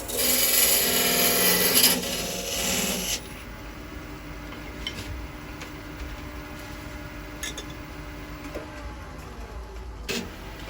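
Wood turning on a lathe while cutting a ledge in a wooden ring: a bright scraping hiss of the tool against the spinning ring for about three seconds, then a quieter hum of the running lathe with small ticks.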